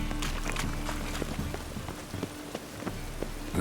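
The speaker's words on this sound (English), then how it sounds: "Looks like rain." Steady rain in The Witcher 3: Wild Hunt patters on surfaces nearby, dense drops with scattered louder taps over a constant hiss, no voices.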